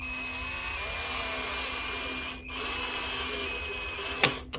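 A power driver turns a screw slowly into a wooden garden bed with trellis, a steady whirring drone that breaks off briefly midway and ends with short sharp bursts, close and alone.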